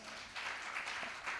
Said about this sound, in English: So a round of applause for ourselves.